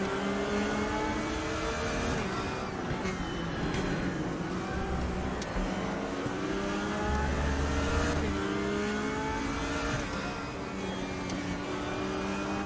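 Porsche race car engine in the Raceroom racing game, a continuous loud high-pitched whine that rises and falls through gear changes and braking, with overlapping tones from other cars on track.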